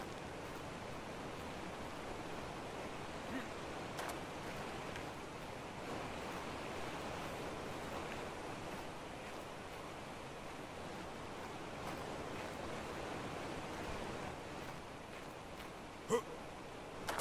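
Steady rushing water of a waterfall inside a cave in ARK: Survival Evolved on the Ragnarok map, a continuous even roar with no breaks and a brief faint click near the end.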